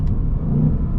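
An S650 Ford Mustang GT engine rumbles loudly and close, with a low revving surge as it downshifts in manual mode.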